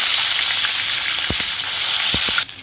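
Rohu fish pieces frying in hot oil in a pan, giving a loud, steady hiss with a few sharp pops and spatters, before the sizzle drops away abruptly at the end.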